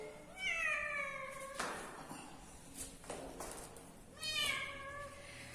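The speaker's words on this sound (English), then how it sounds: "See, look at this cat." A cat meows twice, a few seconds apart, fairly faint against quiet room noise, with a brief rustle in between.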